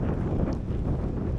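Strong gusting wind buffets the microphone while cycling in the rain on a coastal road, a dense, continuous low roar filling the short stretch with no voices.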